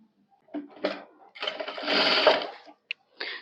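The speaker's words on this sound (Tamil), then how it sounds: "சோ அது பக்கத்துலயே நான் இப்ப இதெல்லாம் தைக்கிறேன்" A sewing machine stitching piping onto a blouse whirs in short bursts of stitching separated by pauses, close and clear in a quiet room.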